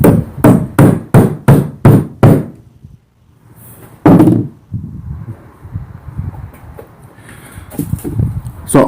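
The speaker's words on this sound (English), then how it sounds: "I'm going to knock this inside of there to make sure it doesn't go anywhere" Scrap tubing is hammered into a saw blade knife assembly with six loud, evenly spaced metallic knocks, then a pause, one more heavy strike, and lighter workshop rustling afterward.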